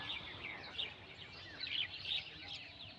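Two birds perched together on a branch in a quiet morning setting give short, high chirps in scattered bursts over a soft outdoor background, moderately distant and fairly faint.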